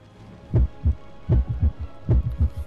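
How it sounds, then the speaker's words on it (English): A deep heartbeat from an alien creature in a video game, with low thumping beats in doubled pairs repeating about three times, close and muffled against a quiet hum. "Yep, can still hear heartbeats."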